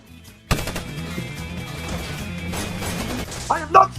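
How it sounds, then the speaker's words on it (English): Heavy gunfire and crashing impacts erupt in a spy movie escape scene, loud and dense after a short quiet start, with sharp bursts near the end over a mixed soundtrack. "As they escape, they come under heavy gunfire."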